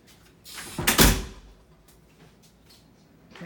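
A connecting door between rooms at Disney's Riviera Resort swings and shuts with a whooshing rush and a solid thud nearby, followed by faint rattles and quiet room tone.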